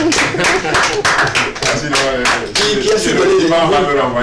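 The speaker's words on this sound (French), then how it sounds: "Merci d'applaudir le représentant du gouvernement." Clapping from an audience applauding a government representative on a cultural news set, steady rapid claps throughout, mixed with voices and musical tones underneath.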